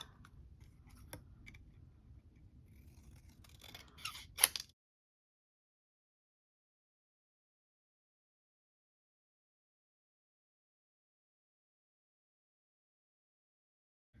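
Scissors hand-cutting a piece of stamped craft paper, close crisp snipping for several seconds and then silence, with no talking.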